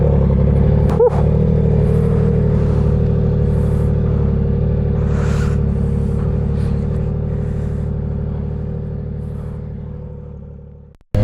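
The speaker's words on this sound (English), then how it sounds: "Let's go ahead and start this up" A 2025 Yamaha R9 motorcycle with an aftermarket exhaust cranks and fires, then settles into a steady, close, loud idle rumble that holds evenly before cutting off abruptly at the end.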